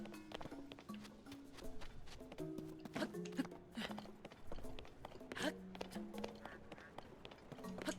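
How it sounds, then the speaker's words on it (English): Ducks in The Legend of Zelda: Tears of the Kingdom quack in short, repeated nasal calls, soft and fairly close, with a few scattered footstep-like taps in between. "Quack, quack."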